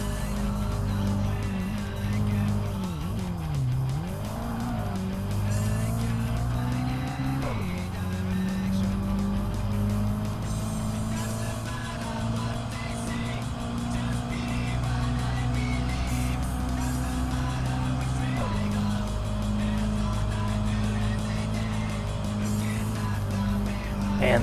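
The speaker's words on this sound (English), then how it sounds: "I'm racing a Daihatsu midget" A Daihatsu Midget racing car in the Tokyo Xtreme Racer Drift 2 video game: a strained, buzzing engine climbs and drops through the revs with a couple of sharp gear changes, and tire squeal mixes in under the steady drone.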